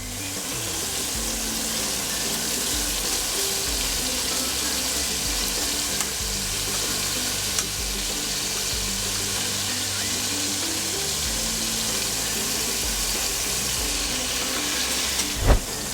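Beef pieces browning in a hot frying pan for kare kare, a loud, continuous close sizzle with a faint clatter near the end and no talking.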